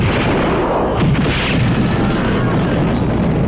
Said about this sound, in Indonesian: pasukan kompeni datang dan menembakkan meriam yang menghancurkan